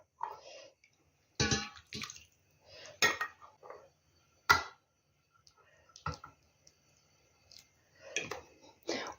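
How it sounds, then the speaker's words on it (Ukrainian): Boiling water splashes and pours in short bursts into jars of preserved peppers and eggplant, broken up by clinks of glass and metal nearby, with quiet gaps between. "І тепер знову беру кип'яток і отак повну вверх доливаю."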